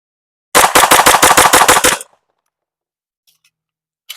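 A Smith & Wesson pistol fires a rapid string of about ten shots in roughly a second and a half, loud and close. The shots are evenly spaced, and silence follows.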